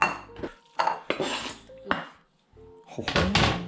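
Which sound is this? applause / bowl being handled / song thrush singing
bowl being handled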